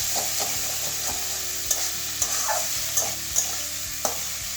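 Bitter gourd frying in a pan with salt, a steady sizzle broken by periodic scraping stirs and clanks of the spatula, close and alone without any voices.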